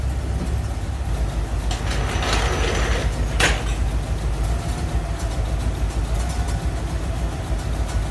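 A car engine idles at about 850 RPM with a low, steady rumble throughout, choke off, joined by a brief rattling clatter partway through; nobody speaks.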